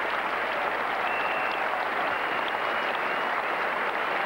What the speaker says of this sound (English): They're applauding what has been a fantastic innings.